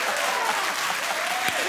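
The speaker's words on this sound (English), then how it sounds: "Keep clapping" A studio audience at a talk show applauds in a dense, steady wash of clapping that fills the room for a short stretch.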